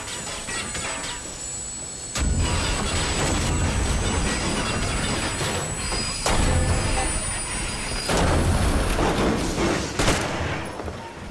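Bursts of gunfire crack out several times over a constant rumbling, rattling train noise, loud and close, in the video game Metro Exodus.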